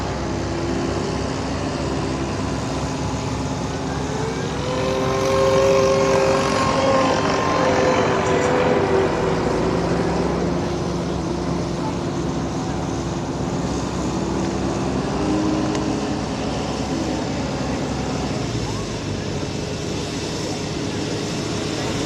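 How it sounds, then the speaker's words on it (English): Pulling tractor engine roaring steadily down the track at a Saturday night tractor pull at Grassy Fork VFD, loud and continuous with rising and falling pitch sweeps, while an announcer talks over it. "Good running tractor right here."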